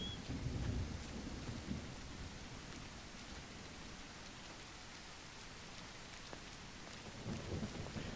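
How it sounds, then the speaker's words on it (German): Rain and thunder in the No One Survived video game form a dense, continuous hiss of falling rain, with low rumbling swells of thunder near the start and end. "Werde ich eigentlich sauber von dem Regen?"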